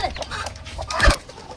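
A hen on a village chick-hatching farm gives a brief few clucks and squawks, close and fairly loud, lasting under two seconds with no speech over it.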